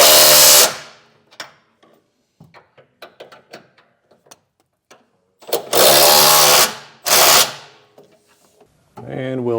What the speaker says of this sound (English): Now we can tighten down our bigger bolts on our side plates.